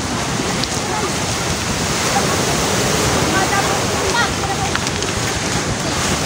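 Rushing floodwater and churning waves after heavy rain, a steady loud roar of turbulent water with wind buffeting the microphone throughout.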